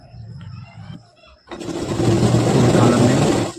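A sewing machine stitching the collar of an Arabic jubba: a brief quiet pause, then the motor kicks in and runs loudly and steadily at close range, with a voice talking over the start.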